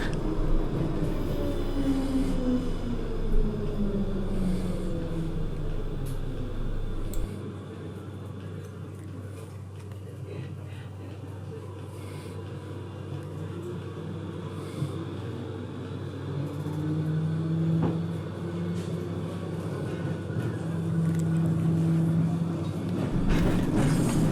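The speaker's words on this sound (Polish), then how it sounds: "A nasz tramwaj ruszył dalej i jedziemy teraz na most teatralny." A Poznań tram rolls along the track toward a viaduct, a steady low rumble with rising and falling wheel and motor tones, close and continuous, with no talking.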